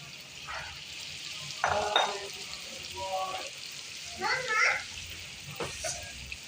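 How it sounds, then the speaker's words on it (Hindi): Tomato and ginger paste lands in frying garlic for a radish and chicken curry, sputtering bursts of sizzle and stirring, with a voice talking over it. "ये टमाटर और अदरक का पेस्ट ये डाल दें।"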